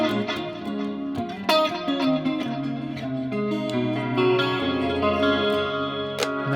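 A guitar through a NUX Mighty Plug headphone amp with ping pong delay, a continuous effected tone with echoing repeats bouncing between left and right, chorus-like shimmer and reverb, clean and steady with no voices.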